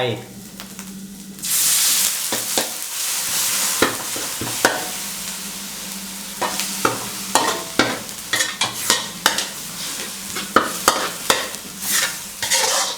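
Northern Thai chilli paste being stir-fried in a pan, with a steady sizzle and repeated sharp scraping strokes of a spatula against the pan, close and fairly loud, with no voice over it.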